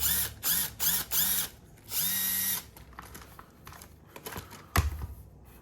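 The motor of an LDRC LD18499 RC crawler car whirs in four short bursts, then in one longer steady burst, followed by quieter clicks and handling noises with one louder knock.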